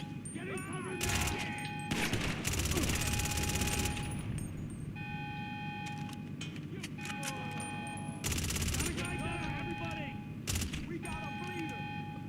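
Bursts of rapid automatic gunfire from a magazine being emptied in GTA 5 Online, coming in several loud volleys separated by short gaps, mixed with game sounds and talking.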